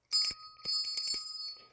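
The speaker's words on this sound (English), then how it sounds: "Lord Crashington wants me to ring the bell, which I will right now" A small hand bell rings out in three or four quick bright strikes, each leaving a clear metallic ring that fades away.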